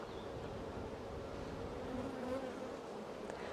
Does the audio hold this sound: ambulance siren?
no